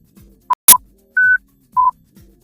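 Three short pure beeps from a listening test, two identical and one pitched differently, spaced about half a second apart and preceded by a sharp click, over faint low background sounds.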